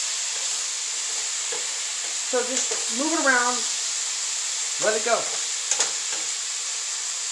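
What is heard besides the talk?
steak meat sizzling while browning in hot pan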